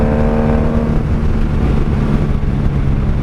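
A 1995 Honda Magna VF750C motorcycle fitted with a Jardine exhaust runs loud and close, its engine note holding a steady, throaty drone with a slight rise in pitch at the start.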